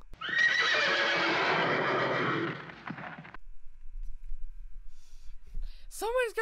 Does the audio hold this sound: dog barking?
no